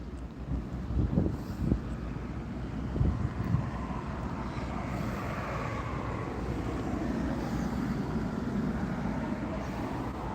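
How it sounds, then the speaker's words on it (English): Steady outdoor wind rushes across the microphone, a broad continuous roar with a few low buffeting gusts early on, heard alone without talk. "Ooh, that wind feels nice."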